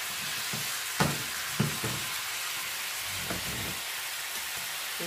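Bacon sizzling and frying in a pan, a steady hiss of spitting fat with a few soft clacks of stirring or utensil contact, close and continuous, no voices.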